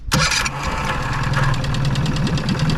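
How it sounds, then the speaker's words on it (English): A 1998 Mariner Bigfoot 25hp four-stroke outboard engine, just fitted with a new coil pack, cranks briefly and then catches. It settles into a steady, loud, close idle with a rhythmic mechanical chug. "We will start the engine"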